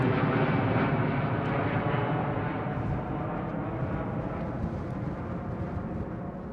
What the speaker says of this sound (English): Freighter coming out.